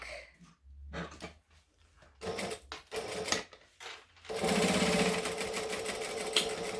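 Sewing machine stitching the side seam of a zip-around wallet, close, starting with short stop-start bursts and then a sustained steady run to the end of the seam.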